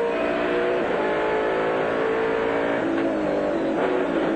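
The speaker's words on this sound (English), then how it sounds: "you listen to it now, it's almost dropping off the power band as he's coming out of the corner" A 1996 Australian Touring Car Championship race car engine at Symmons Plains roars steadily close by, its pitch wavering and sagging slightly as it drops off the power band out of a corner, a long, loud stretch without any talk.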